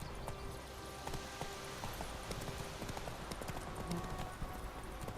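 Horse hooves clip-clop at a steady trot in The Witcher 3 on PS4, a regular rhythmic patter of hoofbeats at moderate level over continuous background ambience.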